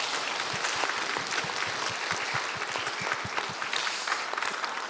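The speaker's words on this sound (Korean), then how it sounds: "이 일을 행하신 주님께 영광의 박수 올리겠습니다" A church congregation applauds during a prayer meeting, a dense, steady wash of many hands clapping at close range that holds for the whole stretch without a break.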